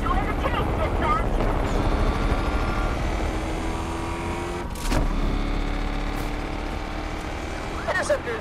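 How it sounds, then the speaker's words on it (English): A police helicopter chasing a car in Need for Speed Unbound, a steady rotor and engine drone with car engine noise and brief whooshes, continuous and fairly loud under the game sounds. "Helicopter is doing the chase, dispatch."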